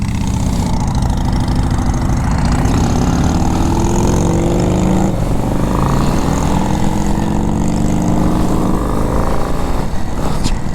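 A 2025 Harley-Davidson Low Rider S engine runs close and loud, a continuous throbbing rumble that rises and falls as the rider slowly eases out the clutch and revs it up.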